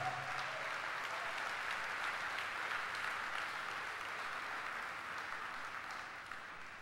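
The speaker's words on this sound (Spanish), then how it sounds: "Denle un fuerte aplauso a ese Señor." Sustained applause fills a church service, a steady wash of clapping from a congregation praising the Lord, holding evenly at moderate level and easing slightly toward the end.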